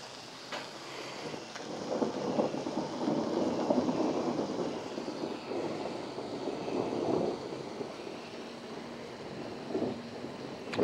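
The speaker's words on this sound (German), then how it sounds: "Also donnern tut schon." Thunder rolls in long, moderately loud rumbles over steady rain during outdoor cooking on a terrace, with no talk.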